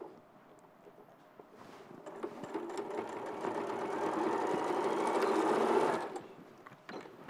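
Sewing machine stitching around a fabric corner, a rapid mechanical whirring that builds and runs steadily for several seconds before stopping abruptly.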